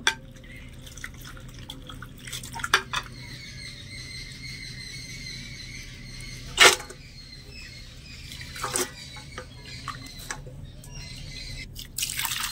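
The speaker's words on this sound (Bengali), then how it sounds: "আমের এই ঝুরিগুলো নুন জল থেকে তুলে নেওয়ার আগে এইভাবে করে নুন জলের মধ্যে একটু হালকা করে কচলে নেব" Shredded raw mango for pickle is squeezed and rinsed by hand in a bowl of salt water, making soft, close sloshing and dripping with a few sharper splashes and clinks, quiet and intermittent, with no voices.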